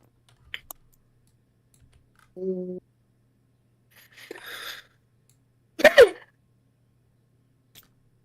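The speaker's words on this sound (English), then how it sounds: "that sounded more like a sneeze" A single sharp sneeze bursts out near the end, loud and close, after a few scattered clicks and rustles in a quiet room during a tabletop wargame session.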